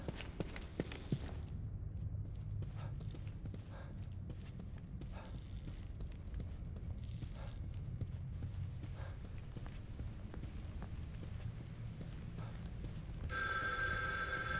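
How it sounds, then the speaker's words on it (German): Old telephone bell rings inside a dark building in the horror video game The Evil Within 2, with footsteps and ambient rumble carrying under it and a sharper electronic tone rising near the end. "Oh, ein Telefon."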